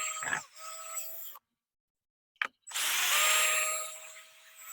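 A power drill backs screws out of a wooden railing section, with two loud whirring bursts separated by a silent pause and a brief click, each burst holding a steady motor whine.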